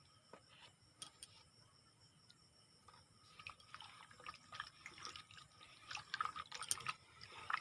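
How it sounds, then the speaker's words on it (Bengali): Raw potatoes being stirred in a bowl of salted soaking water, making soft, faint sloshing and dripping that grows busier and more frequent toward the end. "এভাবে আলুগুলোকে নাড়াচাড়া করে আলুগুলোকে আধ ঘন্টার জন্য ভিজিয়ে রাখবো"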